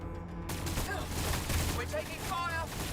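Necron Tesla cannons fire in a Warhammer 40K Battlesector battle, a dense, continuous barrage of crackling blasts and booms layered with game sound effects and music, heavy throughout.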